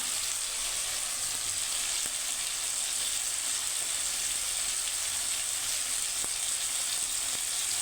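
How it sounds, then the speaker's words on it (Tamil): Steady hiss of onions and salt sautéing in a pan for cowpea curry, a continuous close sizzle with a few faint clinks of stirring and no voices. "கொஞ்சம் உப்பு போட்டுக்கலாம் நல்லா வதங்கட்டும்"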